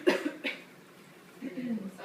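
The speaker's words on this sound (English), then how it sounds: "take a couple of big coughs" Patient giving a couple of big coughs on request during a paramedic chest assessment, two short close coughs, followed by a quieter stretch and some speech.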